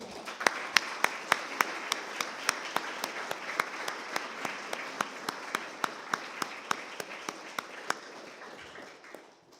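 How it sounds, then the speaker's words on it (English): An audience at a memorial wall event applauds steadily, many hands clapping together at a brisk, even rhythm that holds for several seconds before fading slightly. "I think he deserves another applause"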